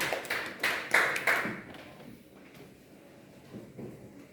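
Students in a classroom clap for their classmates in a short, fairly close burst of sharp claps that lasts about a second and a half. The clapping then dies away into quiet room noise with a few faint taps.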